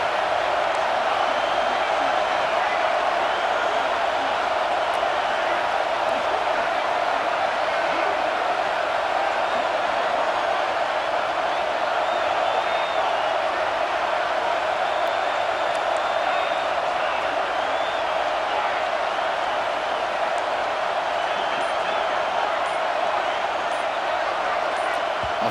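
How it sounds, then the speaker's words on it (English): A packed stadium crowd roars steadily throughout a college football video game, a dense, loud, unbroken wash of cheering with occasional whoops rising out of it. "Third down, and the crowd really getting into it."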